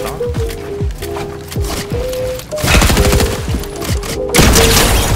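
Gunfire in a solo arena match of a shooting video game, with repeated loud bursts of rapid shots and sharp single blasts, close and dense, punctuated by descending tonal game sounds.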